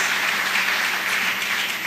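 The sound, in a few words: congregation applause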